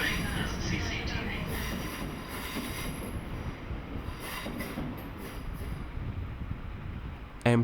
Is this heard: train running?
yes